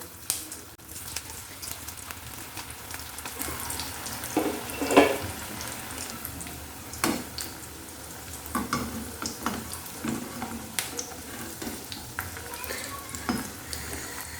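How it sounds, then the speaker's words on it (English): Sattu and soya patties fry in hot oil with a continuous crackling sizzle, punctuated by sharper spits, pops and occasional light utensil clinks against the pan. "Now the oil is hot, so we'll carefully drop the patties in the oil."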